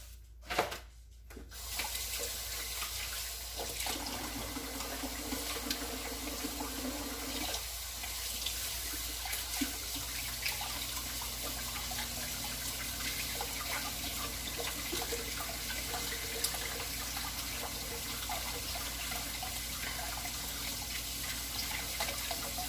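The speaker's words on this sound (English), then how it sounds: "let me wash my hands" A kitchen tap running steadily while hands are washed, a continuous hiss of water with small splashes and shifts in tone, close and moderately loud, after a brief knock at the start.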